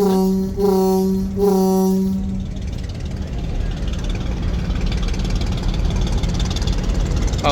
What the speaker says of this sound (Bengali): ইঞ্জিন দুইটি এখন পিছনে চলতেছে